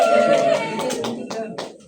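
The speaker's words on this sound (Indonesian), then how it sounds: "kasih aplaus" Classmates clap in a classroom during a microteaching geometry lesson, a cluster of hand claps spread over about two seconds, moderately close, with voices mixed in under the applause.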